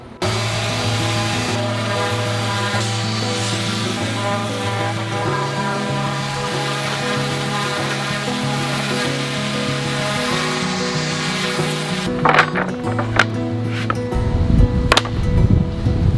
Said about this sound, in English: I'm gonna actually give these boards just a quick sand on top and then also sand these edges here